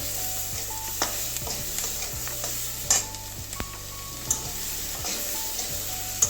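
Chunks of capsicum and onion fry lightly in a pan for chilli mushroom, a soft steady sizzle broken by irregular clacks of a spatula stirring, close up and unaccompanied by speech.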